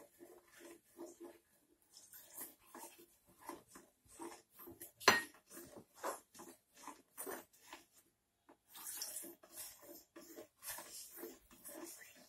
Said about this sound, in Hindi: अब हम ये कस्टर्ड पाउडर डाल के इसको चला लेंगे।